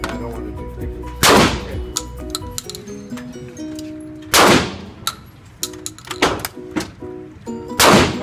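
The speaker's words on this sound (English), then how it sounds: "This is a really good firearm." Three loud, close gunshots from a firearm at the C2 Tactical shooting range, spaced a few seconds apart, with light metallic clinks and rattles in between.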